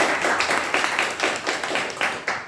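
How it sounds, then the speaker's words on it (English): A small group at a Toastmasters club meeting claps in brief rhythmic bursts for a member's first speech, close and fairly loud individual hand claps with no voices. "Give him a big round of applause."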